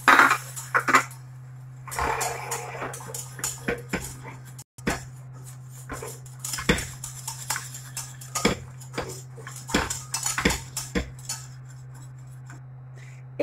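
Butter and flour roux stirred in a pan, a spoon rasping and scraping against the metal in irregular close strokes over a steady low hum, with a brief clatter of utensils.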